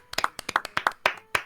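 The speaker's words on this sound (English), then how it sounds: "Can I get an applause" A handful of people clap together in a short burst of applause, sharp irregular hand claps packed closely for about a second and a half, fairly near and with no voices.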